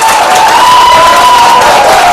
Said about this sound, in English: It's okay to clap, but if you can kind of keep that down just a teeny bit so we can get through to everyone.